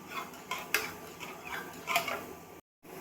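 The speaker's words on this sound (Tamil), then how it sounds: "கரண்டியை வச்சு நல்லா மசிச்சு விட்டுக்கலாம்." Ladle scraping and knocking against the inside of a pressure cooker while mashing cooked nonbu kanji porridge, soft clinks and scrapes at an uneven pace, close and fairly quiet, with a brief full silence near the end.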